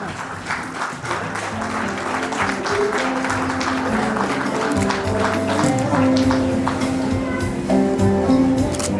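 Sustained audience applause at a farewell and welcome ceremony, dense and loud throughout with steady clapping filling the room, and music or tonal sounds underneath.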